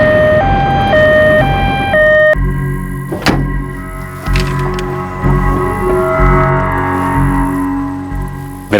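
An ambulance siren wails close and loud, alternating between two pitches at first, then shifts into a long sustained tone, with sharp clanks and thuds mixed in.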